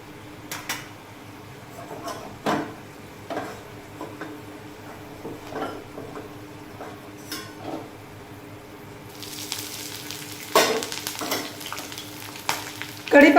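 Green chili pieces and peanuts fry together in a pan for pohe, a steady sizzle with occasional stirring clatters and bursts of spattering, growing louder toward the end.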